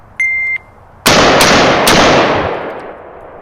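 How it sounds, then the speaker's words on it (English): Three sharp, loud rifle shots fired in quick succession during a Mozambique drill, two to the body and one to the head, each ringing out with a long echoing decay after a brief electronic timer beep. "So first we're gonna run a Mozambique, 2 to the body, 1 to the head."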